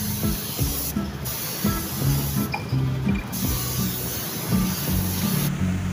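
Clear top coat being sprayed onto a car part, a steady broadband hiss running continuously with brief pauses between passes, close and fairly loud, with no talking over it.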